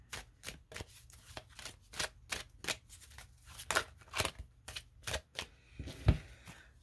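Romance angel oracle cards are shuffled in close, quiet, rhythmic riffles, about a dozen crisp bursts in quick succession with no talk over them.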